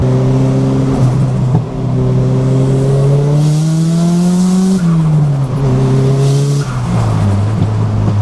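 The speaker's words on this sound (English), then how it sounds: "when I open up the car, it sounds like I've got gate when I really don't" Nissan Silvia S15 with a front exhaust leak giving a wastegate-like sound, revving hard and shifting through gears on a mountain road, loud and close with pitch rising and dropping between shifts and no talk.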